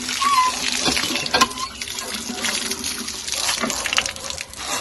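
Water gushing steadily from a repaired hand pump, splashing continuously at close range with faint pumping knocks and no talk.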